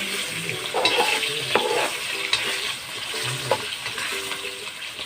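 A pan of ingredients with leaves and chopped chilies sizzles gently while a spoon stirs and scrapes in short strokes, close up over background music.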